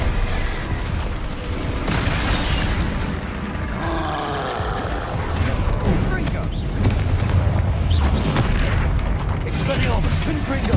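Spell explosions in the video game Hogwarts Legacy, heavy booming blasts and crackling magical bursts rolling continuously, loud and dense with battle noise throughout.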